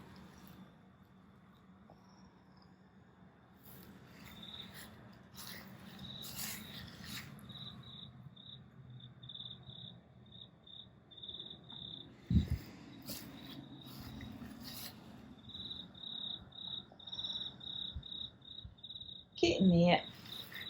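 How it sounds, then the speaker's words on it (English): Crickets chirp in steady high-pitched pulses outdoors in a garden, with a person speaking briefly and some rustling and handling noises. "Crickets having a good little sing-song."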